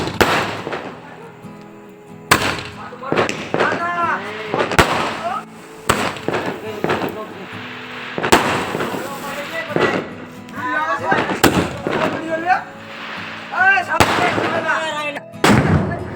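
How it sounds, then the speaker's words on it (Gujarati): Diwali firecrackers set off outdoors, a run of sharp loud blasts spaced a second or two apart across the stretch, with people talking and calling out between the bangs. "ત્યારબાદ હવે મોટો ધડાકો થવાનો છે."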